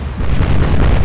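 Naval cannon fire aimed at a ship in the Atlantic Fleet video game, one heavy, loud, rumbling blast that swells and holds for about a second, with no talking.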